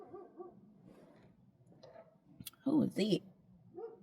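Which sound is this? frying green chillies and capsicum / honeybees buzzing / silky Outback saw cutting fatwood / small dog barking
small dog barking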